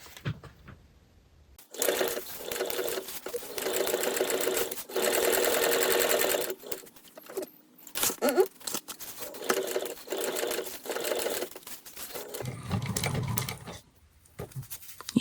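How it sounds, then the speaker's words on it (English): Sewing machine stitching three sides of a fabric Celine-style bag, several close whirring runs of varying length broken by short stops, handling noises and brief pauses, with no talk. "we're going to take this to the machine, and we're going to stitch the 3 sides"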